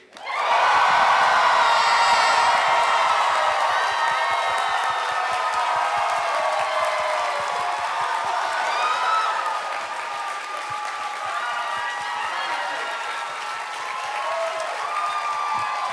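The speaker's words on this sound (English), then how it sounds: "When I say 3, you better cheer." Large audience at a Game of Thrones celebrity panel at a convention bursting into loud, sustained cheering, whooping and applause that carries on for the whole stretch, easing slightly toward the end.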